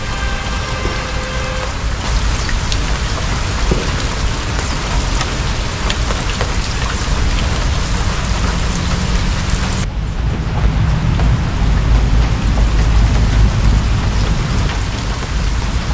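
Steady, heavy rain pours down close by, a dense continuous hiss with a low rumble beneath that grows slightly stronger toward the end.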